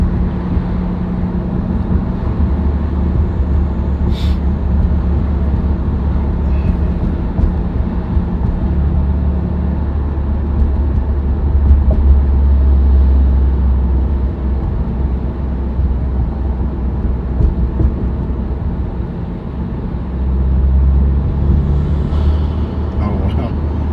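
A steady low engine drone with road rumble from a moving 2022 Subaru WRX with a cold air intake, heard through a cracked window, continuous and fairly loud throughout, with occasional faint background sounds.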